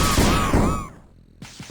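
Ebon Flamethrower firing in the Alien Breed video game, a loud burst of rushing weapon fire with whooshing, warbling tones that cut off, followed by a couple of sharp thuds.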